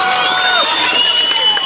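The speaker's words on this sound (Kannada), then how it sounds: "ನಿಧಾನ ಆಯ್ತು ಚಪ್ಪಾಳೆ ವಿನಯ್ ಸರ್ಗೆ." Audience applause and cheering for an IAS coaching founder, a steady crowd wash of clapping and whoops that fills the short stretch at an even level.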